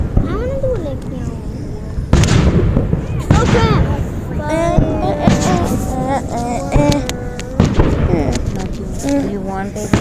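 Backyard fireworks going off in a series of loud bangs and crackling bursts, some with whistling rising tones, spread over about ten seconds, with voices faintly heard in between.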